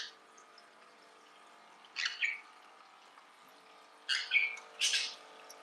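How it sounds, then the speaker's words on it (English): A pet parrot bathing in a kitchen sink, giving a few short bursts of splashing and chirping flutters, separated by quiet gaps, close and fairly loud. "First time taking a bath in the sink."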